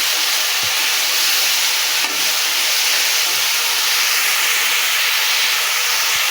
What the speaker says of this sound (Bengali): তো আলুটাকে আমি লো করে ভাজবো।